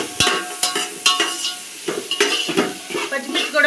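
Green chillies frying in a pan for biryani alongside cooked-down tomato, a spoon scraping and clacking against the metal in irregular strokes over a soft sizzle, close and alone.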